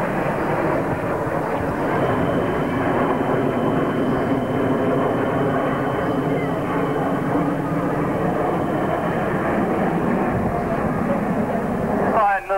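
Red Arrows jets fly in formation at the 1992 Humberside air show, a continuous roaring engine rumble at a distance, steady in volume, with a commentator talking over it.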